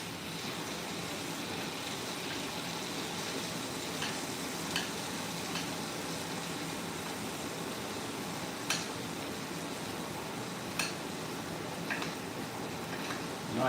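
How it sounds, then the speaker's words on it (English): A steak sizzles steadily in a hot pan while being basted during a live cooking show, with a continuous dense crackle and a few sharper spits and pops, close and fairly loud with no talking. "Let that sizzle a little bit more."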